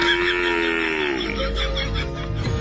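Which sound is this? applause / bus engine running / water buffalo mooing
water buffalo mooing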